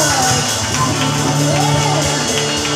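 Congregation clapping and cheering during an anniversary church service, loud continuous crowd noise with shouts and whoops over a steady low musical drone and drums.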